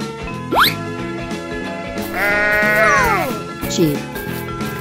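A sheep bleats in a drawn-out, wavering cry over cheerful background music, with short squeaky sound effects before and after.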